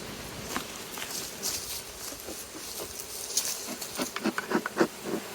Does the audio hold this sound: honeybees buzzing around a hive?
yes